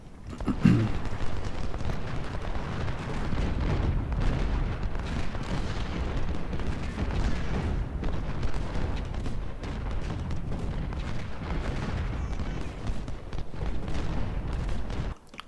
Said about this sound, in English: I suppose this is what artillery can do for you. This is what cannons, howitzers, artillery, whatever you want to call it.